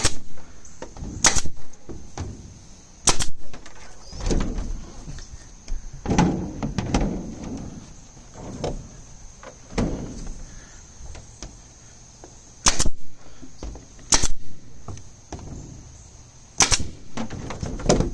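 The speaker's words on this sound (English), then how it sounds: "So place it and staple." A staple gun fires into rain catch material under a deck, giving sharp isolated snaps spaced a few seconds apart. Softer handling and rustling fill the gaps between the shots.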